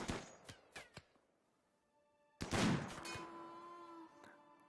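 Gunfire in the video game Rimworld: a few sharp, quiet shots early on, a lull, then a louder burst of impacts with a lingering ringing tail.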